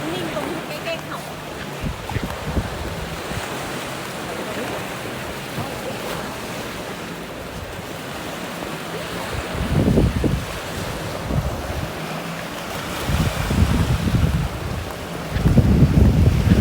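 Sea waves and wind at a beach in Chumphon, Thailand, a steady broadband wash of surf with wind buffeting the microphone, swelling louder near the end, while a child and adults chat over it.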